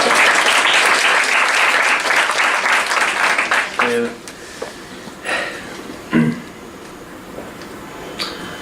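An audience at an academic conference session applauds loudly for about four seconds before the clapping fades quickly, leaving a few isolated claps and small rustles in a quieter room.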